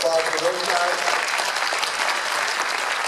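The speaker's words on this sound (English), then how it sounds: "Can we have a round of applause for those guys?" An audience at an organized event breaks into a sustained round of applause, dense clapping that starts at once and stays full and even for several seconds.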